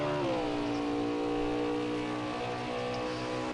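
A race car in a racing game at Watkins Glen, an Interstate Batteries car, holds a loud, steady high-revving engine drone, its pitch dipping slightly at the start and then staying constant and close throughout.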